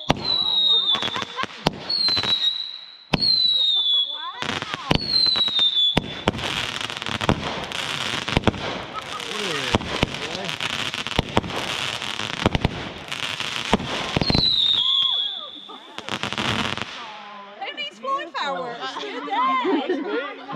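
Screaming eagle fireworks go off close by, each with a shrill descending whistle followed by sharp crackling bangs, in a rapid repeated series, while people chatter and laugh throughout.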